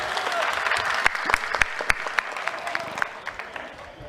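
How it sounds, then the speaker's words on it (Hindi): Applause rises from a crowd at a political rally, loose clapping with distinct sharp claps standing out, thinning toward the end, with voices faintly underneath. "तालियां बजाओ अखिलेश भाई के लिए आप लोग"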